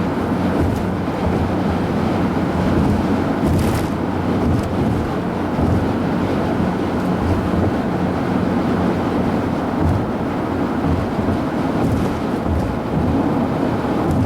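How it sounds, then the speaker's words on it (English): Steady low rumbling wind noise fills the cabin of a moving 2005 Acura MDX with 165K miles on a not very smooth road, a constant roar with road drone underneath and no talking. "And there isn't too much wind noise either."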